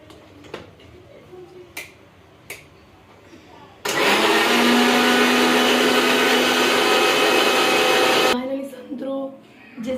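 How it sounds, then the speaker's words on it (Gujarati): An electric mixer grinder crushes seeded orange segments for juice, a loud steady whirring roar that starts abruptly, runs for several seconds and then cuts off, with quieter kitchen clatter before and after. "આપણે મિક્સરમાં ક્રશ કરી લઈએ."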